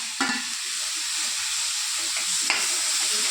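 Tomatoes and onions frying with chili and coriander powder on a low flame, a steady bright sizzle with a couple of brief stirring scrapes, close and alone.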